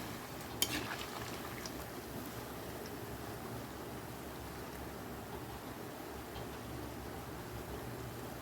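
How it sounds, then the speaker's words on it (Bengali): Nimki snacks frying in oil, a faint, even bubbling sizzle running throughout with a sharp clink near the start and no talk. "নিমকিগুলো ভেজে নিই তারপরে খাবো"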